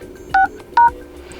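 Two short keypad dialing tones, loud and close, entered one after the other on a Xiaomi Mi Mix 2S phone dialer, with no voice over them.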